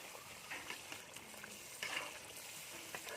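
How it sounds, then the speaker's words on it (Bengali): Chicken and yogurt being stirred together in a pan for biryani, soft scraping and wet sizzling with a few spoon clinks, quiet and close. "টক দইটা দেওয়ানোর পরে এটা আমরা মিশানোর চেষ্টা করব।"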